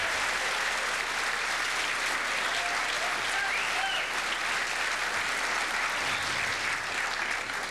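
A crowd at a 1992 US Open pool tournament applauds steadily and densely for the whole stretch, without a break.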